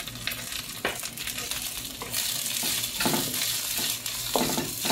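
Garlic and onion sautéing in hot oil for chicken molokhia, with a loud continuous sizzle up close and periodic stirring scrapes through the pan.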